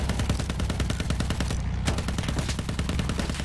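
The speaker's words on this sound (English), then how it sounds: "there's a machine gunner shooting us" Sustained machine gun fire in the Battlefield 1 video game, a dense, loud stream of rapid shots that continues almost unbroken throughout, with only a brief pause partway through.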